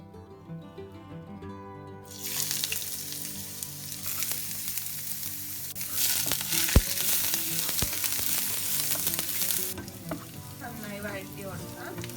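Crushed garlic and ginger sizzle and fry steadily in a hot pan, with occasional stirring scrapes, loud and close throughout after a quiet start.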